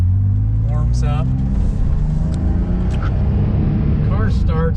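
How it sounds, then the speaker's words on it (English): A 1983 Porsche 911 SC engine runs with a steady, loud low rumble throughout, while voices break in briefly near the start and end. "The car starts beautifully."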